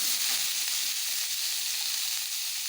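Green peas fry in a pan for an aloo paneer sabji, giving a dense, even sizzle that stays loud and close throughout, with no talking over it.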